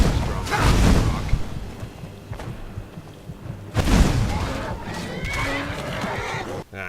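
A horse in Skyrim neighs and whinnies amid combat, with thumping impacts and a second loud burst partway through, the cries rising close and strong over ongoing game noise.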